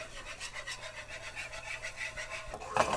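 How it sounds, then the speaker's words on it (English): Flour roux being whisked in a pan over the flame, a soft rhythmic scraping and rubbing of the whisk against the pan bottom, close but quiet, with a slightly louder clatter near the end and no talking. "But don't stop whisking it."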